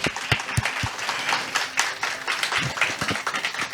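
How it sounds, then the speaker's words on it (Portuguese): Audience applause at a panel event on inclusive education, a steady patter of claps with a few louder close hand claps standing out, heard alone without talk. "Aplaudir, Maria Antônia."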